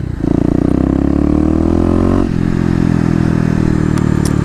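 A Kawasaki KLX250 dirt bike engine drones loud and close at steady high revs during a wheelie, then drops in pitch and settles into a rougher lower note, with faint clicks near the end.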